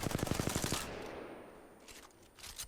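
Rapid automatic fire from the R-301 rifle in Apex Legends, about a dozen sharp evenly spaced shots in a quick burst lasting under a second, then a fading ringing tail and faint game ambience.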